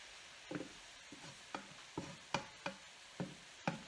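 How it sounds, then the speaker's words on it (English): Sausage and spinach being sautéed in a pan, with a low sizzle under a series of light, scraping stirs at an even pace. "I'm going to add in the sausage and just kind of saute that around for a sec"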